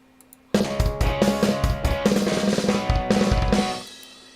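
A dense drum fill of snare and bass drum hits in a recorded song arrangement, rapid punchy strikes starting abruptly over sustained accompaniment, then fading out.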